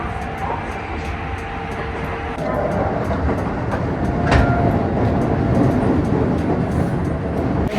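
Train at a station in Japan, a sustained rumble with rhythmic clatter that swells louder partway through, marked by a sharp metallic squeal and a steady whining tone.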